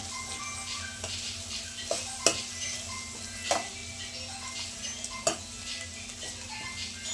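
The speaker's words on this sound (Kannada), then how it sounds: "ಕೊತ್ತಂಬರಿ ಆ್ಯಡ್ ಮಾಡ್ತೀನಿ ಮಿಕ್ಸ್ ಮಾಡ್ಕೊಳ್ಳಿ" Spoon stirring capsicum chitranna rice in a pan after chopped coriander goes in, sparse scraping clicks and a few sharper metallic taps against the pan over a quiet kitchen hum.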